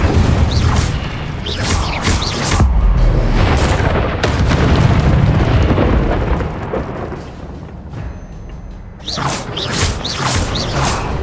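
Fiery Incendio spell blasts in the video game Hogwarts Legacy, loud booming bursts and whooshes repeating over several seconds amid dense game sound effects, with no talking.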